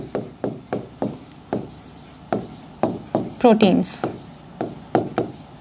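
A heading being written on a classroom board in a biology lesson, with a steady run of short scratchy strokes, close and fairly loud, and a brief spoken word in the middle.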